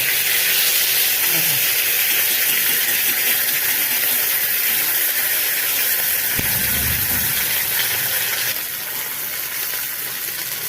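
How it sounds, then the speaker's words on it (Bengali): Fish frying in hot oil in a kadai, a steady, loud sizzle continuous throughout with a faint low rumble underneath. "কড়া করে মাছটা ভেজে নেব"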